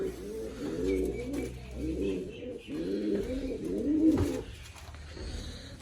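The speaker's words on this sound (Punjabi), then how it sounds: "ਕਬੂਤਰ ਕਬੂਤਰ ਦੇ ਗੁੜਕੀ ਜਾਂਦਾ ਗੁਰ ਗੁਰ" Pigeons coo repeatedly inside a cage, low rolling warbles in a steady rhythm, close and fairly loud, with a few faint chirps behind.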